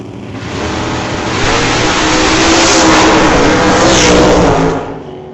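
A drag race car, a black Nova at an old-time drag strip, launches hard off the line with a loud, rising roar that swells for several seconds and then fades slightly.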